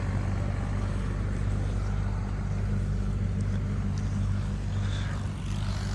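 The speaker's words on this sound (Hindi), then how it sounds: "ये जा रहा है ट्रैक्टर" A tractor rumbles past on a village road by the fields, its low engine drone loud and steady throughout.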